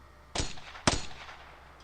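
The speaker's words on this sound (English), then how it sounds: "Then more gunshots." Two sharp gunshots in the visual novel game Steins;Gate 0, the first and then a second about half a second later, each a loud broadband crack over a quiet background.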